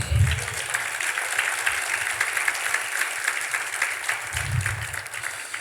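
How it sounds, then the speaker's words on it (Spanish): A church congregation in Maracaibo applauds during a service, a sustained wash of many hands clapping that holds steady at moderate level, with a few faint low thumps or voices beneath. "Dale un aplauso al Señor."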